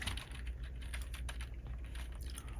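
Keys clatter in quick, uneven bursts on a computer keyboard as someone types a single word, light close-up clicks over a steady low hum in a card-making craft room.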